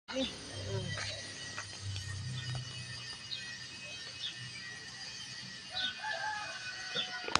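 A hen clucks and squawks close by amid outdoor background noise, with people talking faintly in the distance.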